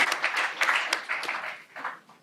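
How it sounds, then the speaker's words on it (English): Applause for student athletes at a school district board meeting, a brief burst of scattered clapping from a modest crowd that fades out. "How about one more applause for all our student athletes representing the Yakima School District."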